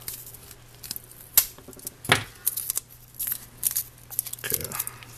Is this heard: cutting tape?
yes